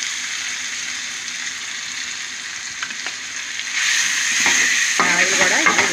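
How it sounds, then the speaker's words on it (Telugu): Masala paste fries in oil with onions, making a loud, dense, continuous sizzle. The sizzle swells and grows harsher in the last couple of seconds, with a little stirring. "మసాలా అంతా బాగా ఫ్రై అయిపోయింది అన్నమాట"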